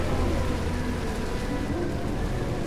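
Steady rain falls in the Crete survival video game as the world grows darker, a dense, continuous hiss of drops with a faint low rumble beneath, even and unbroken from start to finish.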